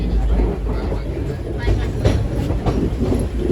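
Inside a sleeper coach of the moving Nandigram Express train, a loud steady rumble and rattle of the wagon on the rails with rhythmic clickety-clack, while a voice talks over it.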